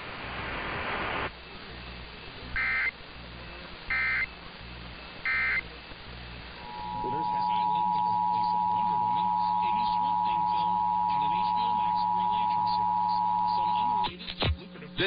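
A San Diego area Emergency Alert System monthly test: three short data bursts, then a long steady two-tone alert signal that abruptly cuts off, loud and close.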